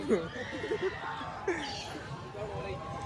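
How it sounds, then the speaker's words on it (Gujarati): Horses at a village fair in Gujarat give short whinnies, one near the start and another about a second and a half later, over a background of crowd chatter and nearby voices. "જો બે ઘોડકા ને એવું છે"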